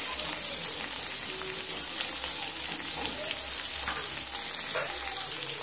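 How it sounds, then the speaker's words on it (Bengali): Spices with salt, turmeric, ginger-garlic paste and chilli powder fry in a pan for a bitter gourd and prawn dish, a steady close sizzle with faint spatula stirring underneath. "এবার আমি এইভাবে খুন্তি দিয়ে একদম নেড়ে চেড়ে একদম ভেজে নেব"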